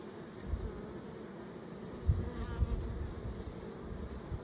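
Honeybees buzz steadily around an opened hive during an inspection, a soft continuous drone with a few closer, louder passes and faint handling bumps.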